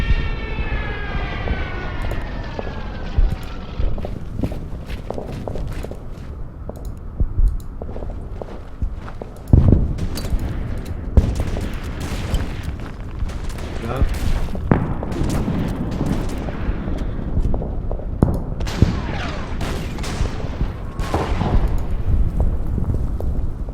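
Stuka dive bomber attacking a tank in an Order of Battle Blitzkrieg battle at Minsk: a falling whine at the start, then a dense mix of rumbling impacts and sharp blasts, loud and continuous.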